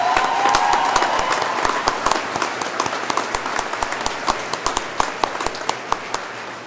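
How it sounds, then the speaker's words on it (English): A commencement audience applauds the graduates, a broad wash of clapping with sharper individual claps standing out as it gradually thins. "Let's give all of our graduates a nice round of applause"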